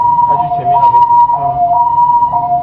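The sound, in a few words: ambulance siren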